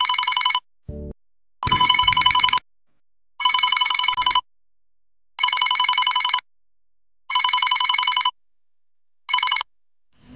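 A phone rings for an incoming call in an Assamese horror short film: loud, bright electronic ring bursts repeat about six times with sharp silent gaps between them, with no voices.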